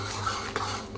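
A spoon stirs chilli paneer in a pan over a high flame, giving two quick metallic scrapes over a faint background hiss in about a second, with no talking.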